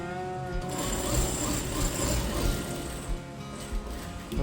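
A tailor's sewing machine runs continuously while stitching a salwar, giving a close, steady rapid mechanical whirr and needle chatter with slight surges in speed throughout.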